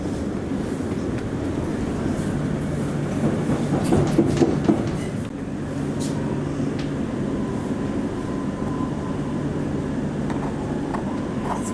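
An HCMT suburban train runs express toward Caulfield station, a steady rumble of wheels and rolling noise with a brief rise in clatter midway, heard from inside the carriage with no talk.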